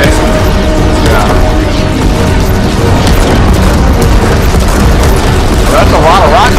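Rockets and explosions at Fortnite's Big Bang live event make deep, continuous booming rumbles, loud and dense throughout. People talk over the roar.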